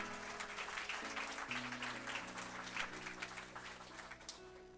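A church congregation applauding the Lord during a French-language sermon, soft sustained clapping from many people with a quiet organ-like tone held underneath.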